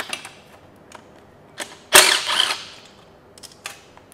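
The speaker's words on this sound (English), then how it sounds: "Oops, we've dropped it into the valley." A 10 mm bolt drops into the valley of a Kia/Hyundai V6 engine during head removal, giving one sharp metallic clatter with a short rattling bounce, preceded and followed by faint tool clicks, with no talking.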